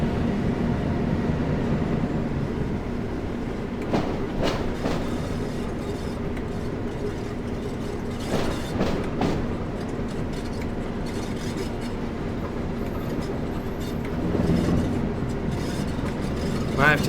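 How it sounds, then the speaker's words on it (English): A Class 08 light locomotive rolls slowly along rails at low speed in a train simulator game, a continuous rumbling drone broken by a few clanking bursts and a swell near the end. "We are a light locomotive, and we're also limited to 10 miles an hour."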